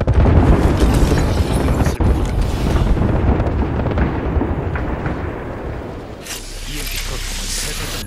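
A grenade explosion in the video game Apex Legends, with a loud, dense rumbling roar that fills the sound and slowly fades over several seconds, then a lower, rougher tail follows.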